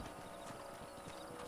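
Horses' hooves clip-clop in Red Dead Redemption, a quick, quiet run of steady hoofbeats from a group of horses moving through a canyon.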